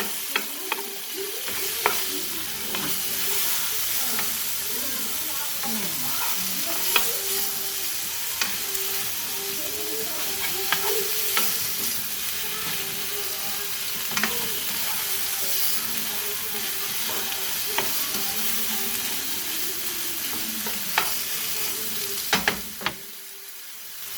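Pork chunks for chile verde sizzle and brown in a hot pan, a steady close frying hiss with occasional small pops and a brief clatter of stirring near the end.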